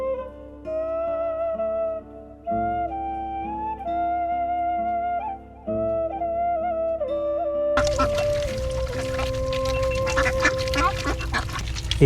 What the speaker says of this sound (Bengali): এই হাঁসগুলো পালা হয় এইখানেই, এবং এই যে পাশে যে খোয়ারটা রয়েছে এই খোয়ারের মধ্যে এই হাঁসগুলো থাকে